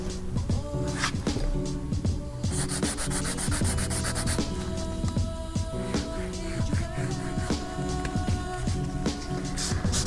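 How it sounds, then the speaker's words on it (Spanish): A nail file rasps back and forth along the sides of a sculpted fingernail in steady, close repeated strokes, a dense scratchy rubbing with no talking. "al trabajar, al limar los lados, yo inclino la lima un poco."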